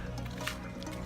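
Water splashes and trickles steadily while a soft-bristle brush scrubs parts of a KTM RC 200 motorcycle, a continuous wet rush close to the mic.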